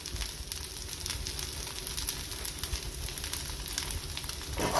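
Corn frying in a pan over fairly high heat gives a loud, continuous close sizzle with dense crackling pops, steady from start to finish with no voices.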